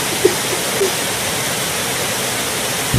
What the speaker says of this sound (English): Alright, I'll be making a flood.